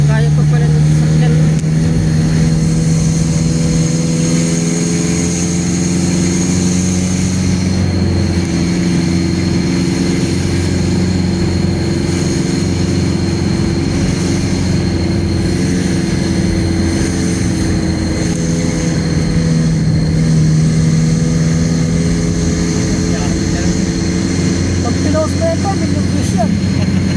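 A car engine drones steadily inside the vehicle as it climbs the Atimonan zigzag mountain road, loud and continuous with slow pitch swells, under occasional talk.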